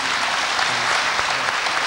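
Audience applause at a Maria Tănase commemorative event, a steady dense wash of clapping filling the whole moment, loud and continuous with no voices.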